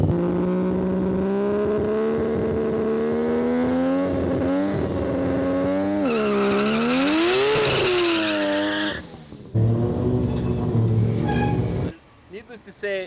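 A Ferrari revs hard during a line lock burnout, its engine note climbing and wavering with tire squeal, loud and close, then dropping off sharply near the end with brief mechanical noise.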